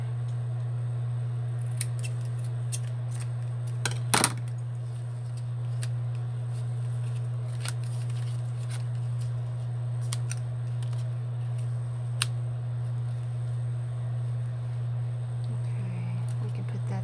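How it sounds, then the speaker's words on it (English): Scissors trimming the edge of paper for a paper craft project, a few short crisp snips spread over a steady low background hum, with one sharper cut near the middle. "I need to trim that edge there."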